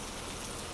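Steady rain falls in a soft, even hiss with a fine patter of drops, continuous and unbroken throughout, with no voices.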